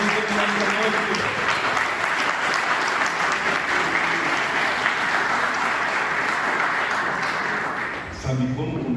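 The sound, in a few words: church congregation applauding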